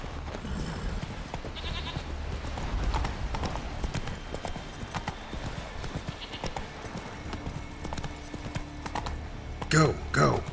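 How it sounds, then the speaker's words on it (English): Steady clip-clop of a galloping horse in The Witcher 3 drums on without pause, with someone talking over the hoofbeats and a brief sharper burst near the end. "Run, Roach. Not so fast, Roach."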